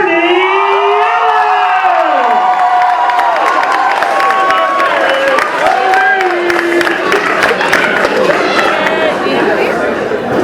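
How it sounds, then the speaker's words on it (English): A crowd at a university dance competition cheers, whoops and chatters loudly throughout, with rising and falling shrill whistles or siren-like calls over the din. "Can we have a big cheer"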